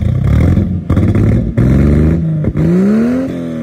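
A car engine running on vodka instead of gasoline roars loud and close, its pitch climbing in short surges as it is revved, with brief dips between pulls.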